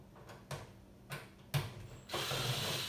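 A screw being backed out of an LG TV during a wifi module repair, heard as a few close, sharp ratcheting clicks in quick bursts, ending in a longer grinding rasp.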